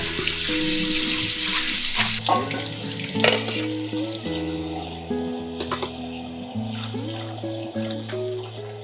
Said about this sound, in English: And run it in cold water.